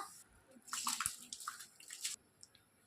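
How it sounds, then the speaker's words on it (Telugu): Washed rice splashes into a pot of boiling water while Hyderabadi chicken biryani is being cooked, giving a soft, brief flurry of bubbling and sloshing heard faintly and up close. "ఇప్పుడు వాటర్ బాయిల్ అవ్వడం స్టార్ట్ అయ్యిందండి"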